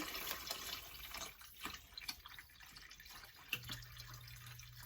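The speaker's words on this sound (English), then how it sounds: "I'm gonna add more water" Water poured into a pot of homemade potato soup with tilapia, a faint splashing, dripping trickle of liquid running steadily for several seconds, with a low steady hum entering near the end.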